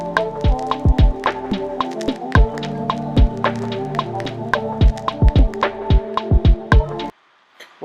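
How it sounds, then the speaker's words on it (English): Programmed tom drum pattern in a simple R&B beat, steady repeated pitched tom hits layered over sustained synth tones and a light groove, ending abruptly near the close. "Just laying down this tom pattern here."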